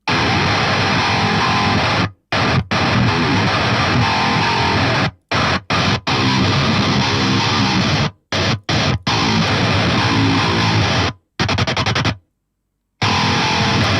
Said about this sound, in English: This sounds like Swedish chainsaw kind of tone.